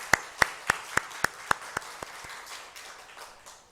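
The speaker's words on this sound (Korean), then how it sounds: "하나님 앞에 영광의 박수 올려드리겠습니다" A Korean church congregation at Sunday worship claps in unison, crisp evenly spaced beats in a quick steady rhythm that gradually soften and trail off into scattered clapping.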